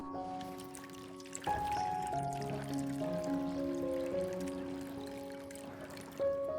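1,000 milliliters of clean water is poured into a container to dilute a solution, with a gurgling, trickling flow that rises in pitch as it fills, steady and close for several seconds.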